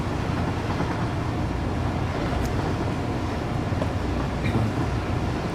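A train rolling along the tracks in the factory-building game Satisfactory, a steady loud rumble that holds level for several seconds with faint clicks over it, no talk.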